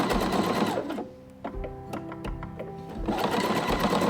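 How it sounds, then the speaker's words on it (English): A computerized Pfaff sewing machine runs a wide serpentine stitch, its motor whirring in two loud bursts separated by a quieter pause with a few mechanical clicks and taps. "the machine's actually gonna feed my fabric sideways as it's going forward"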